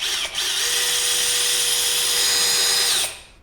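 A power drill bores a hole into glazed tile, whining steadily and loudly at one constant speed for about three seconds before spinning down, with no talking over it.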